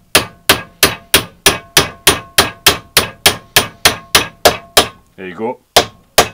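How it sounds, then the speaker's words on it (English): Hammer tapping a pin into a BMW E36 lower control arm, about fourteen sharp, evenly spaced metallic strikes, close and loud, with a brief spoken remark before a final couple of taps. "So if I start tapping this down now, you'll notice a change in sound when it's all the way home."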